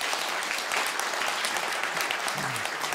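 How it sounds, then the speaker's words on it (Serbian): An audience at a comedy show claps in a thick, even burst of applause, loud and sustained for the whole stretch, with a faint voice surfacing near the end. "Jedan aplauz."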